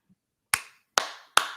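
Three slow, crisp hand claps ring out one by one in a quiet room, each sharp and close with a short decay.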